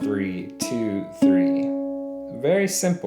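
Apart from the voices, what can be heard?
None of the usual background noises is heard.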